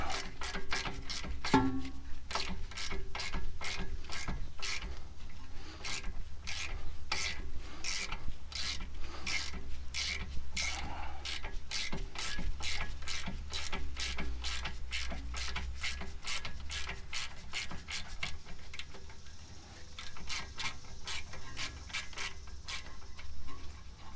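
A hand ratchet loosens a 19 mm bolt under a removed cotter pin, giving a long, steady run of close, sharp clicks in an even rhythm over a low hum, with no talking.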